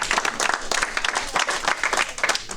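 A wedding congregation at a church nuptial blessing breaks into rhythmic applause, a dense, lively clapping that carries on steadily for the whole stretch at a moderate level.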